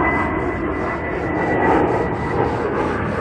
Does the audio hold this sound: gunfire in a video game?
no